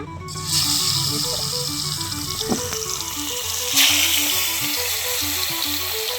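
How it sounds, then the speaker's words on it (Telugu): Fish pieces dropped into heated oil for a fish pickle set up a steady, close frying sizzle that runs without a break, with small clinks and splashes partway through and no voices. "నూనె అయితే కాగిందండి, ముక్కలు అయితే వదులుకుంటున్నా"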